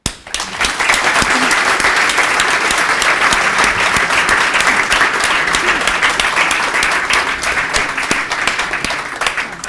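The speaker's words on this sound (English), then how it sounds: "And I'd like to extend that applause to our moderator, Dr. Pardo." An audience at a plenary conference session on open government gives sustained, dense applause, loud and steady for nearly ten seconds, with no pause and no voices rising above it.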